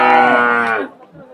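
A single cow gives one loud, close, drawn-out moo lasting under a second at a livestock market in Dhamrai, then falls quiet.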